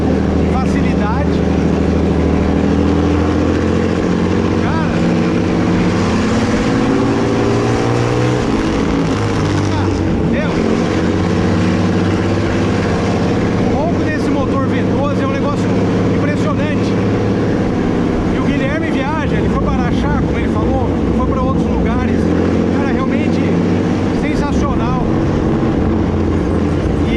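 The 8.7-litre V12 of a 1926 Buick speedster drones loudly and continuously while driving in third gear, its deep engine note rising and falling as someone talks over it throughout.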